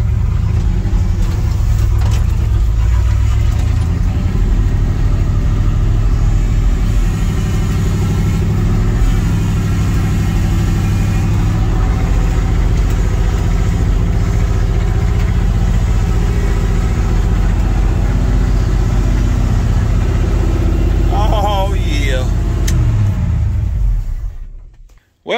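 A car engine rumbles steadily at close range, idling and pulling slowly up a small hill into a garage before cutting off abruptly near the end; the engine has lost oil pressure and won't idle.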